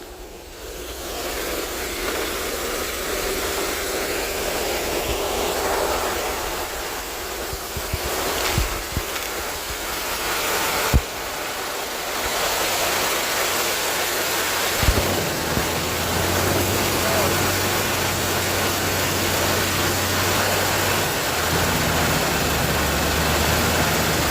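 Truck engine revved at night in a protected forest during a recovery, a broad loud roar with a low rumbling drone that shifts in pitch and swells, steady and close throughout.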